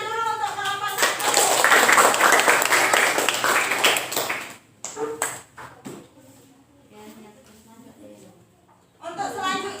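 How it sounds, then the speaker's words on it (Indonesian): A seventh-grade classroom of students claps for the first student group, a dense burst of group applause lasting a few seconds before fading into quieter chatter and voices. "Tepuk tangan dulu untuk kelompok 1."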